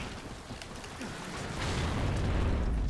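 A frag grenade blast in the video game Gears of War Judgment makes a loud, rumbling burst with a heavy low-end boom that builds and lingers for a few seconds.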